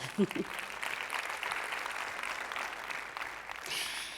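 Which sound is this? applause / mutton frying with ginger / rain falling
applause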